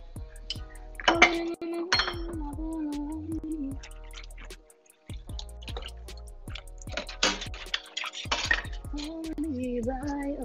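Dishes, pots and cutlery clatter during washing: scattered sharp clinks and ringing knocks of metal and ceramic, close by, with a brief pause midway and a faint hum beneath.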